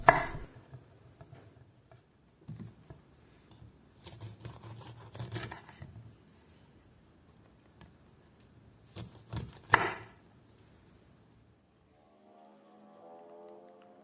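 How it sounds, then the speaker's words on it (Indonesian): Knife cutting through cleaned oranges on a board, heard as a run of irregular soft chops and thuds at close range with a few sharper cuts, quiet stretches between, then a faint tonal hum near the end. "Selanjutnya ini akan aku potong-potong."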